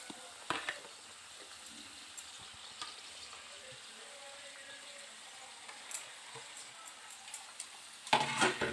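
Flattened rice (chuda) being stirred in a hot pan for an Odia chuda santula, with faint, sparse scraping ticks over a soft sizzle and a louder burst of stirring right at the end.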